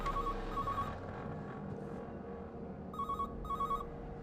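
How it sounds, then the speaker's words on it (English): A telephone in the video game Everybody's Gone to the Rapture rings in two pairs of short electronic bursts, a pause between them, over a steady low ambient hum. "Still hear a ringing."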